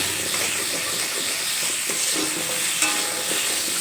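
Potatoes being stirred with salt and turmeric in a hot pan, a dense continuous sizzle and hiss with soft scraping strokes of a spatula, close and steady throughout.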